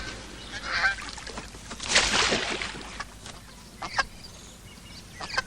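Goose honking in a western film, a few rough honks rising around the middle amid outdoor background noise, fairly near and moderately loud with no talk.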